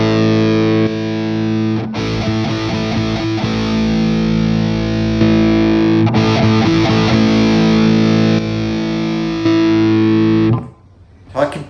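Heavily distorted electric guitar through a modded 1977 Marshall JMP amp set for high gain, sustained chords and riffs ringing loud and continuous for about ten seconds before cutting off into near silence.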